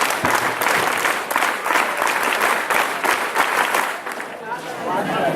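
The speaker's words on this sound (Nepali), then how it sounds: "तपाईँले 5 ताली गरेर स्वागत गरिदिनु होला" Scouts at a Kathmandu district trekking and running shield event give a rhythmic group applause, a loud, dense burst of many hands clapping together with brief pauses, and voices mixed in underneath.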